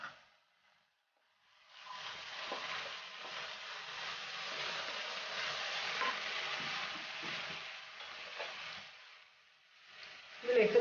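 Soy sauce hitting a hot pan of momo vegetable filling brings up a sustained hissing sizzle that swells and then fades away over several seconds, heard close up with a few light clinks.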